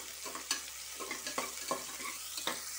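Vegetables with salt sauté in a pan for a snake gourd biryani, a spatula scraping and stirring at a steady rhythm over a soft, continuous sizzle, close and moderately loud.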